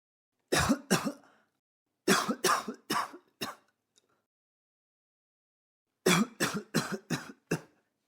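Harsh coughing fits from a man in a damp underground vault come in three bursts: two coughs, then four, then a quiet pause before five more, close and loud.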